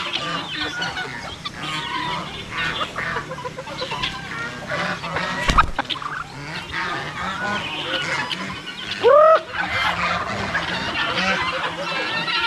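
A crowd of turkeys gobbling amid other farmyard fowl clucking, including chickens, a busy continuous barnyard chorus with one louder gobble near the end.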